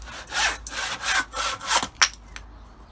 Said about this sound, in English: Will I do this sawing with you?